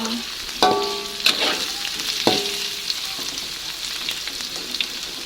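Tempeh fries in hot oil in a pan for oreg tempe, a dense crackling sizzle broken by a few sharp metallic clinks and scrapes as the pieces are flipped, close and with no talk.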